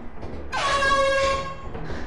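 A loud horn blares in the video game Lethal Company, one sustained honk lasting about a second over a steady background hum.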